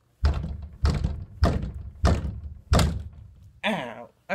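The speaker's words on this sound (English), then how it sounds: "So, I grab a camera and just start banging my head on the wall." A head bangs against a wall five times in a slow, regular rhythm, each blow a dull, close, heavy thunk, followed by a brief vocal exclamation at the end.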